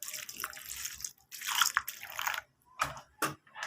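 Cleaning solution poured over copper-nickel coins in a container, heard as short bursts of splashing and trickling liquid separated by brief silences, close and fairly quiet.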